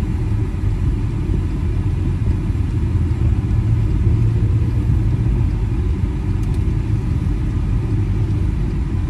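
A VW Scirocco 2.0 GT with DSG gearbox drives along, heard from inside the cabin as a steady low engine and road rumble with no speech.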